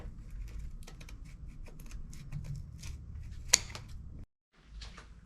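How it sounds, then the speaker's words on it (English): Metal shears cut wall paneling inside a cargo trailer being fitted out as a bathroom, a run of short, close snips and crunches in quick irregular rhythm, one sharper click, then a brief silence before a few more cuts. "I just go back with the shears and trim it up until it fits"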